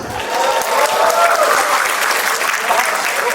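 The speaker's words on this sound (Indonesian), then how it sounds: "Boleh tepuk tangan sekali lagi untuk kita semua yang ada di sini" Loud, dense applause from a crowd at a stand-up comedy show, steady and sustained throughout with a faint murmur of voices mixed in.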